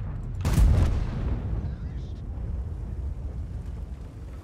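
An artillery shell strikes in World of Tanks with one heavy, booming impact near the start, followed by a rumbling decay and low battlefield noise, while a player talks in German.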